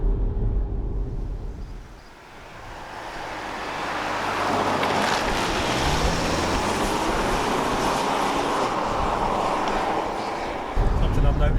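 Wind noise around the door of a 2017 Skoda Kodiaq SUV on the move, a broad steady rush mixed with road roar, dipping briefly early on before holding level.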